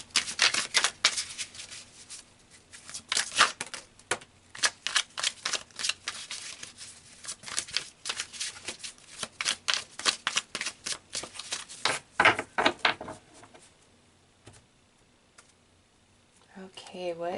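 Tarot cards shuffled by hand for a spiritual reading, giving a long run of rapid, close riffling clicks and flutters that pause briefly near the end, with a voice entering at the close.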